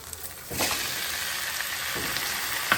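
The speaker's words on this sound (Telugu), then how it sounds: "ఇది బెండకాయ వేగింది ఇప్పుడు టమాటాలు వేస్తుంది" Okra frying in a pan as tomato pieces go in for a coconut-milk curry, a steady soft sizzle with a few louder stirring or tossing bursts, close by and with no talk.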